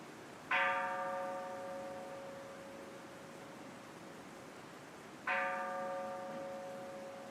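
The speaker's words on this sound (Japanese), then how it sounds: "座禅の始まりを告げる鐘の音。" Two struck strokes of a temple bell at Eiheiji, a Zen monastery, sounding to mark the start of zazen; each rings out clearly and hums on in a long, slowly fading resonance, about five seconds apart, with no voices.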